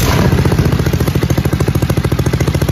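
Predator 212 engine on a Trail Master go-kart, snorkeled and running very rich: loud, close, rough pulsing putter with an uneven, lumpy rhythm, heard alone.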